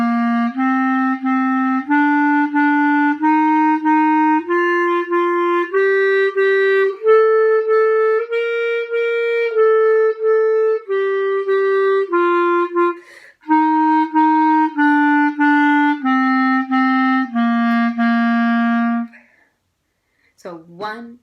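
Clarinet playing a slow stepwise line, each pitch tongued as two even eighth notes, rising and then falling again, played close and clear with no talking.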